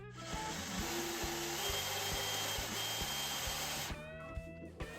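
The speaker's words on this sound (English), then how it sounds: "I'm just going to drill a hole here in the middle to put the stake in." A power drill whirs steadily as it bores a hole through a plastic plant container, with a faint rhythmic ticking underneath, then winds down and stops.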